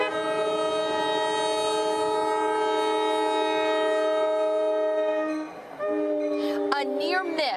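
A train with its horn blaring steadily and loudly as it approaches a railroad crossing, the sustained tone shifting near the end as the train passes close by.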